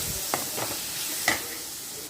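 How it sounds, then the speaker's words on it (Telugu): Cabbage frying with ginger garlic paste in a pan for a cabbage and chana dal curry, giving a steady soft sizzle with a few brief scraping stirs, close and alone. "అల్లం వెల్లుల్లి పేస్ట్ కూడా వేసుకొని బాగా పచ్చివాసన పోయేంత వరకు వేయించుకుందామండి"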